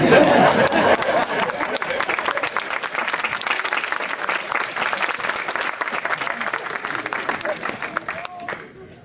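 An audience at a stage show applauds loudly, a dense sustained wash of clapping that stays steady and then thins out and fades near the end.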